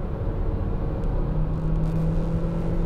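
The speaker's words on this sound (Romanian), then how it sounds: "acum pun piciorul pe accelerație" A Renault Arkana E-Tech hybrid accelerating on an open road, heard as a steady, fairly loud engine and road rumble with a low droning hum throughout and no talking.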